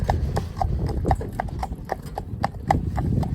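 Hooves of a cob cross horse clip-clop at a steady walking pace, a regular series of crisp hits fairly close by, with light background noise and no talk.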